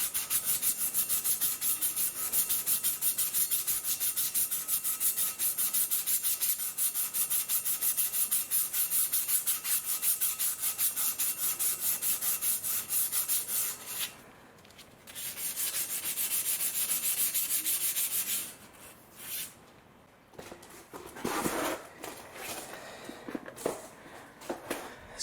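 A cloth rubs briskly back and forth across a 2007 Mercedes C-Class W204 front brake disc soaked with brake cleaner fluid, a steady close scrubbing that pauses briefly and resumes before ending in scattered handling knocks.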